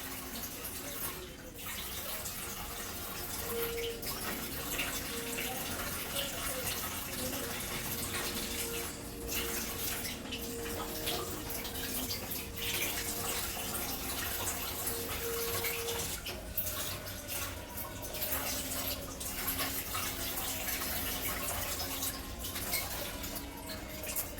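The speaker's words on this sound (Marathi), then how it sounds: "इथे एक एक झाडा अशीच वॉश करून घेते तिरकच कधी" Steady running water at close range as indoor potted plants are washed one by one, a continuous splashing flow that shifts slightly in pitch as it falls and spills.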